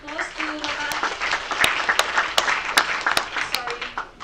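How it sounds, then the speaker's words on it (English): An audience at an academic conference on Indonesian Islam applauds a speaker in a hall. A steady spread of clapping is heard with a few sharp, close claps standing out, while a voice talks over it. "Let's give applause to Bapak."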